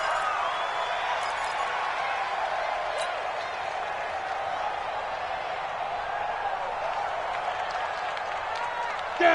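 Stadium crowd noise fills an American football video game, a steady roar of cheering and clapping that holds at an even level throughout while a commentator talks over it.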